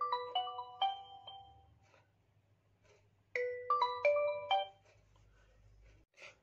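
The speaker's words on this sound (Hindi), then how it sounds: "देखिए फ़ोन आ गया है।" A mobile phone ringtone plays for an incoming call, bright repeating electronic chime phrases in two bursts separated by a quiet gap, loud and close over a low steady hum.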